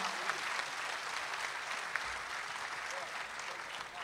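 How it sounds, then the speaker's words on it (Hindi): An audience at a mushaira in Dubai breaks into applause, a dense and sustained clapping that fills the whole stretch at an even level with no voices rising above it. "एक बार जोरदार तालियां बजाकर उनसे कहिएगा"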